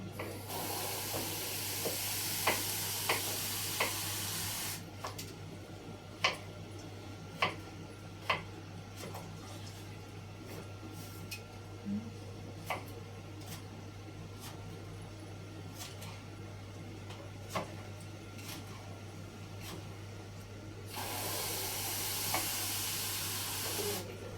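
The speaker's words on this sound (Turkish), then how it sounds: "şöyle kavrulan kırmızı mercimeğe birazcık su ilave edelim" Roasted red lentils sizzle and hiss in a pan as a little water is poured in, with a loud steamy burst at the start and again near the end, a quieter simmer between and a few sharp ticks of a utensil.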